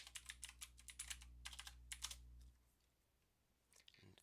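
Typing on a computer keyboard in a quiet room, with a quick run of close, crisp key clicks over a low hum for about two and a half seconds, then near silence.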